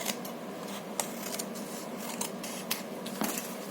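Scissors trim paper for a handmade journal pocket, a string of crisp, close snips at irregular intervals against a faint background, with no voices.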